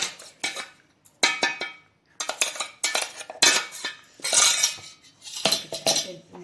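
A spoon scrapes and clinks in a metal bowl while grated coconut, poppy seeds and semolina are stirred together, coming in close, irregular bursts with brief quiet gaps between strokes.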